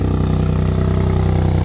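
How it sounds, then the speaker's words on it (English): Salvage hot hatch, crashed twice and in need of an exhaust, idling after a cold start: a steady, loud, rumbling engine idle with an even pulsing beat throughout, no talk. "let me just start the car. Hey, let's get a little cold start."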